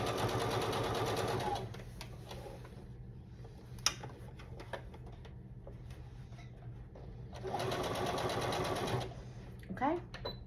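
A home sewing machine stitches at reduced speed for a boxy pouch, running in two steady stretches with a quiet pause between, close and clear under a low background hum.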